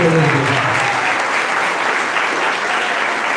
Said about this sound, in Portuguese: vai palma para Jesus